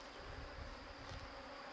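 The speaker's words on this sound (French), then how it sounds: "les abeilles, elles sont un peu limites" Honeybees swarming around hives on a farm in Aveyron, France, a dense steady buzzing drone close by, continuous and fairly loud, with no talking.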